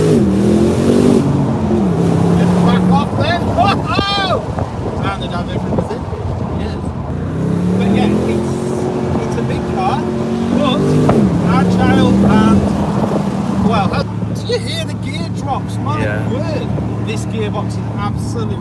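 A 2019 BMW M850i Convertible launches from a standing start on an open road, its engine roaring loud and close and climbing in pitch through several gear changes, with voices heard briefly over it.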